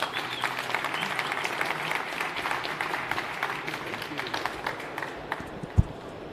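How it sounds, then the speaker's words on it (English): Audience applause for a keynote at the Viva Technology conference, a dense, moderately distant wash of clapping that holds steady for several seconds, then thins and fades out with a lone sharp knock near the end. "Please give a round of applause for Mr. Vincent Kachamenda."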